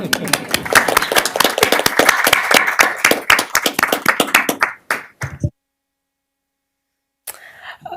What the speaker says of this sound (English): Let's clap. Clap for staff.